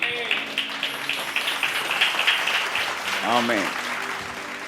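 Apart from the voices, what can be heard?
congregation clapping hands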